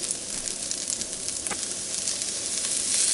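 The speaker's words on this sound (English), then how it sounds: "First we're going to throw in our butter. And we're going to throw in onion." Onion dropped into melted butter in a pan for German creamed kohlrabi, giving a steady close hiss and sizzle with a brief clink partway through.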